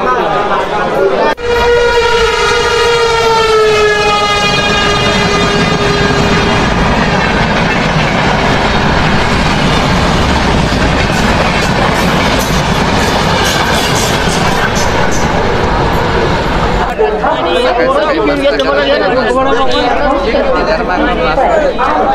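A sleeper-coach train carrying pilgrims to Pandharpur rumbles steadily and loudly throughout, with a drawn-out horn early on and a crowd chattering over the clatter of the carriages.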